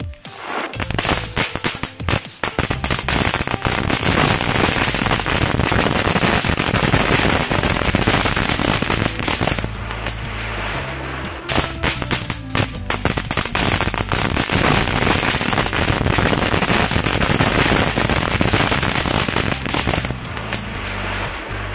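Dense, continuous crackling and popping of spinning firecrackers going off rapidly for a long stretch, loud and close, with a brief lull partway through.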